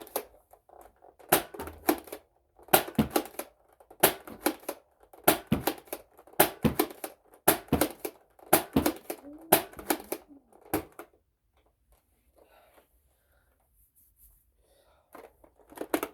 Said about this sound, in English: So let's fire this blaster a bit.